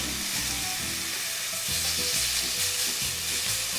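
Eye round steak frying in a hot pan gives a steady, dense sizzle throughout, with bursts of crackling spatter close up and no talking.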